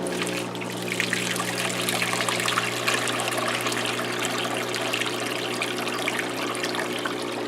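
Water runs steadily into the tub of an LG WM0642HW front-load washer from a hose, a constant rushing trickle with a low steady hum beneath, unbroken throughout.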